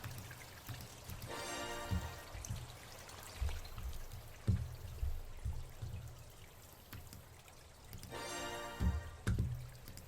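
Stream in the Colossal Cave video game, a soft continuous flow with pouring, trickling surges and occasional drips, faint and with no talk over it.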